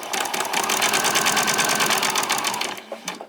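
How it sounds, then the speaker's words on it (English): A sewing machine stitches straight down the fly of a pair of summer shorts, running in one steady, close whir before breaking into a couple of short final bursts at the end of the seam. "I'm just going to machine straight down, back stitch, and all the way down to the bottom."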